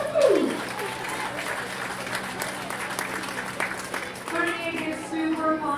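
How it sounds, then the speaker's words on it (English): Applause from a crowd at a county fair livestock judging show rises into a steady wash of clapping and cheering, mid-distance, with a voice carrying over it near the end. "pass it on to these kids with a big round of applause."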